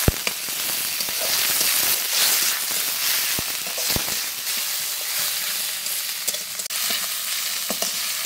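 Tomatoes fry in a pan of hot oil with garlic paste, a steady close sizzle broken by occasional sharp scrapes and clicks of a spoon stirring, with no talking.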